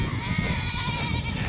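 Goats bleat on a farm in a short, steady wavering cry of overlapping voices, fairly close and moderately loud with rustling background.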